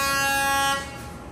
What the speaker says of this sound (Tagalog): Grabe yung busina niya eh.